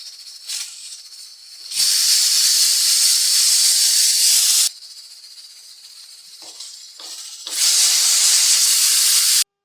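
A pressure cooker whistle hisses loudly in two long bursts of rushing steam, separated by a quieter stretch with a few short puffs, while drumsticks boil inside.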